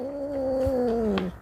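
A mother cat calling her kittens gives one drawn-out, wavering meow up close, sliding gently down in pitch before trailing off.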